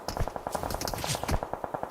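Rapid automatic gunfire from the PUBG Mobile battle royale game, a fast steady rattle of shots about eight per second, close and loud, with a few heavier impacts mixed in.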